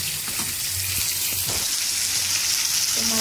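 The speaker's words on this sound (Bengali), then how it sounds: "মাছ ভাজা হচ্ছে" Fish sizzles in hot oil in a pan, a constant close crackling hiss with a few soft stirring knocks and scrapes mixed in, and no voices.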